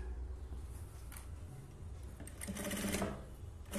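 A sewing machine stitches the hook patti strip on a blouse, a fast, steady, faint rattle of needle strokes running continuously and close.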